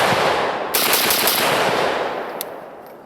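An AK-47 rifle fires a sustained, rapid automatic burst in a sand test, loud sharp cracks blurring into a continuous roar before tailing off with a final distinct shot.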